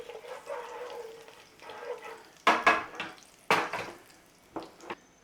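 Cumin seeds frying in hot ghee in a pan for a chicken curry, a soft crackling sizzle that breaks into several sharp spitting pops near the end.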